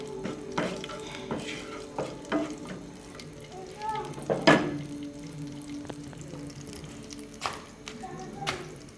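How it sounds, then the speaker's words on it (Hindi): Half a spoon of cumin seeds fries in hot ghee, a soft, steady sizzle broken by scattered clinks and scrapes of a spoon, with a faint voice in the background. "घी गर्म होने पर इसमें आधा चम्मच जीरा शामिल करें और इसको थोड़ी देर ब्राउन करें घी में"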